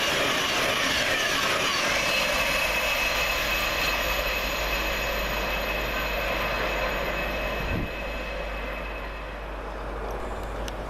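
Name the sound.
class 801 and class 717 trains passing Welham Green station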